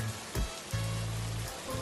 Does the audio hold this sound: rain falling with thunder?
yes